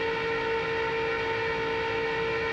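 A 2001 Pepsi 400 NASCAR stock car engine at full throttle gives a loud, steady, high-revving drone with strong sustained tones, continuous with no break and no voices over it.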